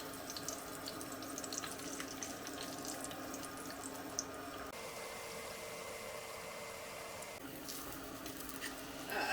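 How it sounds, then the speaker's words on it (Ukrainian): Steady sizzling hiss of brynza-filled pastries frying in hot oil, continuous and close, with a brief shift in tone midway. "Я буду їх смажити на олії і вогонь зробимо трішечки більший"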